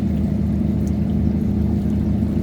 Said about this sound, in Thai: เสียงของเครื่องยนต์บอกเลยไม่ต้อง บรรยายครับกระหึ่มมาแต่ไกลเลย